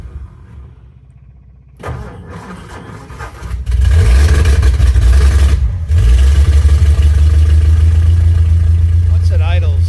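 A Hudson Super Wasp car engine cold-starting: quiet cranking, a brief catch, then the engine fires and settles into a steady, loud, low running rumble with a short dip midway, while someone talks nearby.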